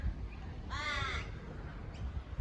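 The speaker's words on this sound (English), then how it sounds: "Crow." A crow in a backyard gives one harsh, drawn-out caw, clear and moderately near over steady outdoor background noise, followed by a faint distant call.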